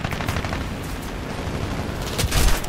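Machine gun fire in War Thunder: a steady stream of rapid shots rattles loudly and continuously, with a heavier burst near the end.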